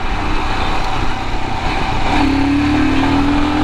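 Royal Enfield motorcycle engine, a Scram 411 or Himalayan, running loud and close with a steady low rumble that climbs into a rising tone partway through, alone without talk.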